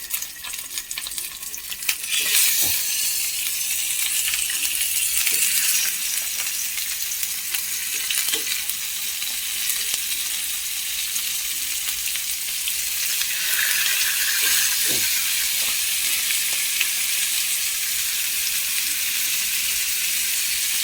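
Fish frying in oil in a pan, a loud steady sizzle running throughout with occasional sharper crackles and brief clinks as pieces are turned.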